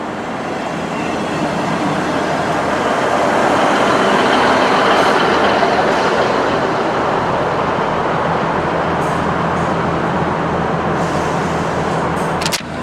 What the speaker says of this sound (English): waiting for the 10:27 service from Westbury to terminate here, which will form the 10:41 Great Western Railway service to Weymouth